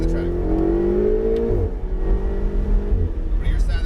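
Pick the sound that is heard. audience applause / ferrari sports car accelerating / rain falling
ferrari sports car accelerating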